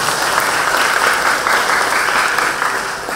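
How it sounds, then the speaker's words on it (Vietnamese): A church congregation applauds at a thanksgiving mass, with dense, steady clapping filling the space throughout. "Xin cộng đoàn dành một tràng pháo tay để chào đón khách hàng."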